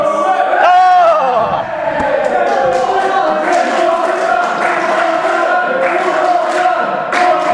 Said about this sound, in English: This crowd wants it again.